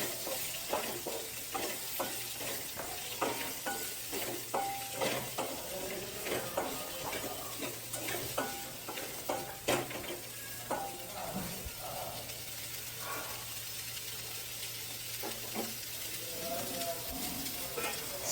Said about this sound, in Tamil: வெங்காயம் கலர் மாறுற அளவுக்கு இன்னும் நல்லா கிளறணும்.